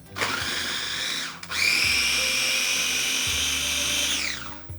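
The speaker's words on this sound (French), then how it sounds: "Et on mixe." An electric blender whirs loudly as it mixes a vinaigrette of oil, salt and pepper. It runs in two steady bursts with a brief pause between them, then spins down at the end.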